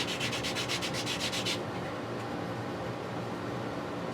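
Sandpaper rubs against a Graphtech guitar nut in quick, even back-and-forth strokes, close and steady for about a second and a half. A soft rasping hiss follows, and no one speaks.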